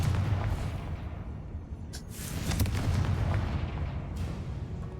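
Booming spell explosions from the Confringo curse in the video game Hogwarts Legacy, a dense rumbling barrage with a couple of sharper cracking bursts, loud and continuous throughout.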